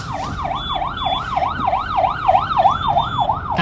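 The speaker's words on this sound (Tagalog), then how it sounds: "Ayan, ambulansya." Ambulance siren wailing in Manila traffic, a fast rising-and-falling yelp repeating steadily and loudly nearby over a low rumble of traffic.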